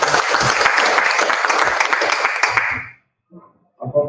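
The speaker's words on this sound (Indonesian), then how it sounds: "Tepuk tangan dulu untuk kita semua." Loud, dense applause from an audience at an annual members' meeting of a savings and credit cooperative, sustained for nearly three seconds before cutting off, followed by a brief pause and the start of speech.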